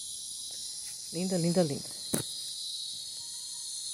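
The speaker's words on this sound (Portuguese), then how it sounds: "E a cigarra aí cantando a todo vapor." A cicada sings at full force in a backyard garden in the late afternoon, a steady high-pitched buzzing drone throughout, with a brief spoken phrase over it.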